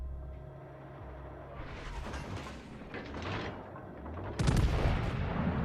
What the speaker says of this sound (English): Shots out from Shannon on that Iowa